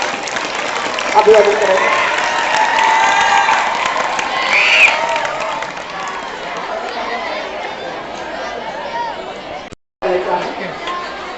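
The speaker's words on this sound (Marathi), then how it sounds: "टाळ्या वाजवा, जोरात वाजवा." At a school's Marathi Language Day celebration, an audience of students claps loudly and steadily amid lively chatter and some shouting. A voice speaks near the end, just after a brief moment of silence.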